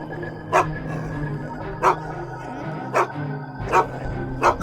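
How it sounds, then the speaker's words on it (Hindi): A dog barks four times at roughly one-second intervals, sharp single woofs from a moderate distance over a low steady background hum. "अरे ये तो सिर्फ कुत्ता है।"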